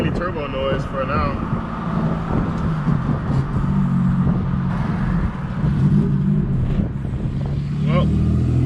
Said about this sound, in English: That's mainly turbo noise for now.